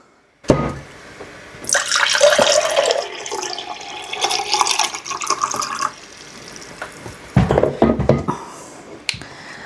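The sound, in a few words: rinsing plant roots with tap water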